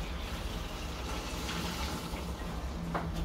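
Water left from cooking meat pours steadily into a pot, a continuous close splashing rush with no pauses.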